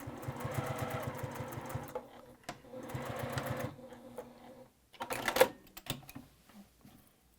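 Sewing machine stitching down the binding on a first quilt: two bursts of rapid, even needle clatter separated by a pause, then scattered clicks and handling noises as the stitching stops.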